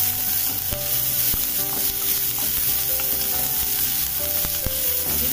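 Finely chopped onion sizzles with garlic in a pan over a full gas flame, a steady hiss broken by occasional clinks and scrapes of stirring, with no talk.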